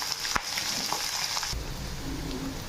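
Onions, dried red chillies, green chillies and curry leaves sautéing in a hot pan for a raw banana dish, a steady close sizzle and crackle with brief stirring sounds, no talking.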